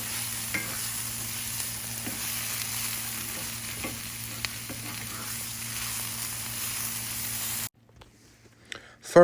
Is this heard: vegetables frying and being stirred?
yes